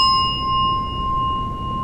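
Meditation bell struck once as a session timer signal, its clear metallic tone sustaining and ringing out steadily with overtones over a faint low background, no talking.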